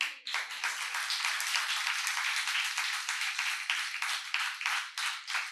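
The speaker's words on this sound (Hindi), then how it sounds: "अब ताली क्यों नहीं बजा रहे हो?" A sermon audience at Jain Bal Ashram in Daryaganj, Delhi applauds with dense, continuous hand clapping that holds steady for several seconds at a moderate, slightly distant level.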